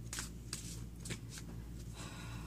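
Tarot cards being shuffled by hand outdoors, a run of soft papery riffling bursts repeating at a steady pace, close and fairly quiet over a constant low background hum.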